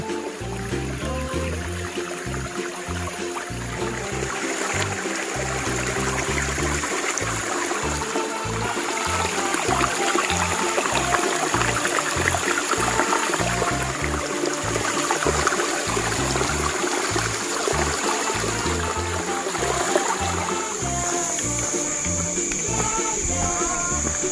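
Chan Ta Then waterfall in Chonburi, Thailand, with water rushing steadily and loudly over rock tiers, a dense continuous wash heard close up for the whole stretch, with background music running underneath.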